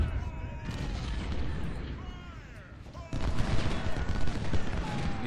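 Artillery guns shelling in Ultimate General: Civil War, a rumbling fusillade of overlapping booms under someone talking, growing louder and denser about halfway through.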